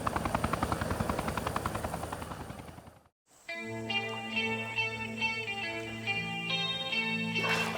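A helicopter's rotor thumps in a rapid, steady beat, then cuts out abruptly before a layered musical score takes over.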